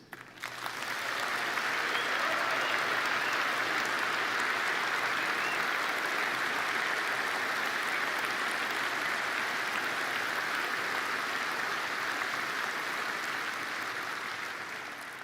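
Audience applause fills a BMW Group keynote hall after thanks for the 3 Series, a broad steady wash of many hands clapping that rises quickly, holds for about fourteen seconds, then begins to taper.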